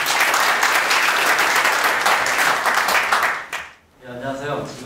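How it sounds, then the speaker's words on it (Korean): A conference audience applauds to welcome a speaker at a technology forum: dense, loud clapping from a crowd for about three and a half seconds, then dying away before a voice begins. "큰 박수로 환영해 주시기 바랍니다."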